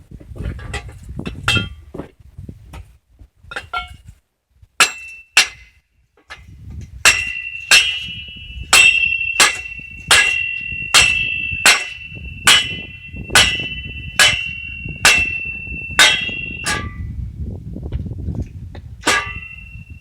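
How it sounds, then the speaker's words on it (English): Repeated ringing metallic hammer blows driving a metal tube into place on a recycled trampoline greenhouse frame, sparse at first then a steady rhythm of about one strike per second, close and loud. "I'll just hammer it in"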